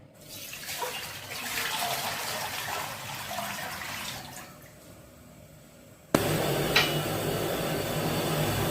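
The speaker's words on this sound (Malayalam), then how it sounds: "ഇപ്പോൾ നമ്മൾ അടക്കിൽ തിളപ്പിക്കാനുള്ള വെള്ളം വയ്ക്കാം" Water runs steadily into a pot set out for boiling while cooking pazham ada pradhaman, a banana and ada payasam, with a continuous pouring rush that changes character and grows louder partway through, with no talk.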